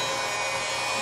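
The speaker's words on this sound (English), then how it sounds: "heating the heat gun up" A hot air gun heats hot melt tape wrapped on a cable bundle, giving a steady, close, airy blowing roar for about a second.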